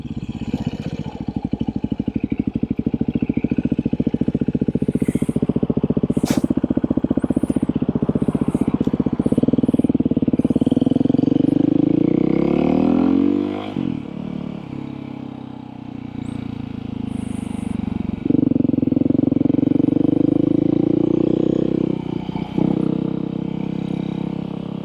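A Beta 500 dirt bike with a full FMF exhaust rides past continuously, its engine droning loud and close with rising revs, a dip around the middle and another climb, faint clatter over the top.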